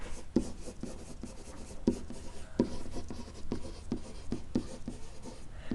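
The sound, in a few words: writing on a board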